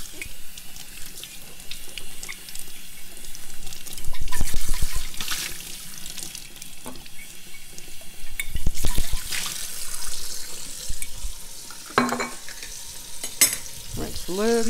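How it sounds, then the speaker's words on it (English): A glass jar is rinsed out under a running tap, giving a steady splashing stream with sloshing surges and clinks of glass against glass, close by and continuous throughout. "Once again, rinse out the jar."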